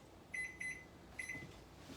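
Short electronic beeps from an oven timer being set while a cake bakes: two quick beeps, a pause, then two more, high-pitched and clear over a quiet kitchen.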